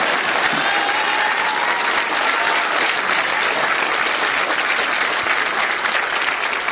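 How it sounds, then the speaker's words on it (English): A crowd at a political election rally breaks into loud, sustained applause that holds steady from start to finish, with a faint murmur of voices mixed in. "You can clap for that."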